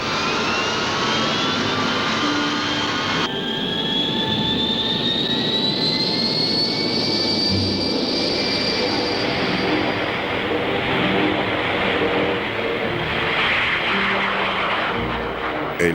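A Gloster Whittle early jet aircraft engine roars steadily at close range, with a rising whine sweeping upward over a dense, constant rush that lasts throughout.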